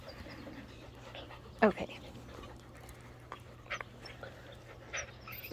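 Puppies pant softly and give faint whimpers close by in a quiet room, while a person speaks briefly over them.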